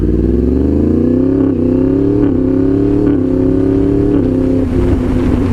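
A Yamaha MT-10 motorcycle fitted with a quickshifter accelerates hard, its loud close engine note climbing in pitch and dropping briefly at each of several quick clutchless upshifts.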